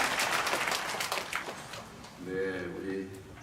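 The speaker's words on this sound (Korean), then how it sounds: "우리 앞에 어린이들을 위해서 박수 한번 치겠습니다." A church congregation at an early-morning Korean revival service claps for the children, a brisk round of applause lasting about two seconds before a voice takes over.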